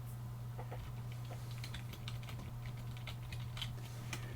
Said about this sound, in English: just so I can type the name of the book